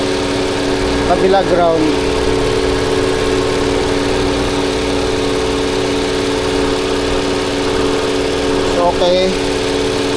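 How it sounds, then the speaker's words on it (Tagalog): Toyota Avalon engine idling with a misfire in cylinder 6, a steady droning hum with a faint uneven shake, while someone talks briefly over it twice. "Lakas ng palya."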